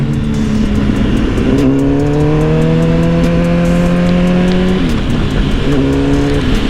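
A Honda CBR motorcycle engine revs loud and close, its pitch climbing through the gears, with a clear drop at each shift before it pulls again. No one speaks.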